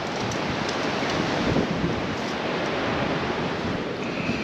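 Broad, steady rush of falling water from a waterfall seen from a high boardwalk at the edge of Estonia, a dense continuous roar filling the scene with no pauses or voices.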